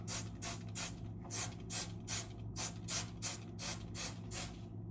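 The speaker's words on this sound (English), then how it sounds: "spray that on, get that sitting in" Oxy Clean stain remover sprayed onto a stained shirt in about a dozen quick, evenly spaced trigger bursts, close and crisp over a low steady background hum.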